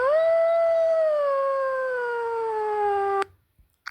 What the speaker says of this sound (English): Wolf SMS notification.